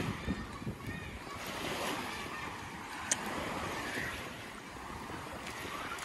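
Rough sea at Talao-Talao Beach in Quezon after a typhoon, with steady surf and wind rushing throughout and a few sharper splashes, heard close under occasional voices.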